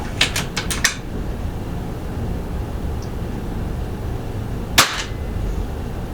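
A Brocock XR Sniper air rifle fires during a test string: a quick cluster of sharp cracks near the start, then a single loud shot near the end, over steady outdoor background noise.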